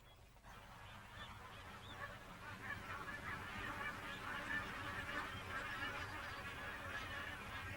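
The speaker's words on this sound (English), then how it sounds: "As wetlands contract into tranquil lagoons, thousands of birds and animals congregate." Flock of waterbirds, geese-like honking, at Kakadu wetland lagoons in Australia's Northern Territory, a dense continuous chorus of many overlapping calls swelling slightly over time, moderately distant with steady ambient wash beneath.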